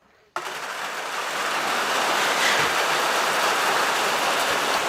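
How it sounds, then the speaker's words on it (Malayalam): Heavy rain falls outdoors in a Kerala home setting, a loud, steady broadband hiss that starts abruptly and holds constant throughout, with no voices heard. "നല്ല മഴയാണ് പെയ്യുന്നത്."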